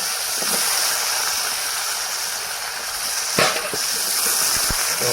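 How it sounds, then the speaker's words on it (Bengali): Cut, washed potatoes sizzle in hot oil for a fish curry, a steady broadband hiss running throughout with one brief sharper spatter midway, fairly loud and with no talking. "খুব সুন্দর ধুয়ে আলুটাকে তেলের মধ্যে ছেড়ে দিল"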